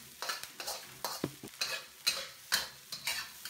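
Fried rice is stirred and flipped in a wok, making soft rhythmic scrapes and shuffles roughly twice a second. A quiet sizzle runs underneath and the utensil clinks lightly. No voices.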